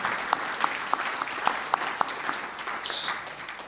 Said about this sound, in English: big applause for Ambassador and all the different